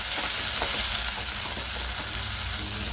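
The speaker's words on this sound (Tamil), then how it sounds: "இதை மிக்ஸ் பண்ணி லைட்டாக வதக்கணும்." Onions and tomatoes sauté over a low flame in a pan for fish curry, giving a steady, close sizzle with faint stirring scrapes throughout and no talking.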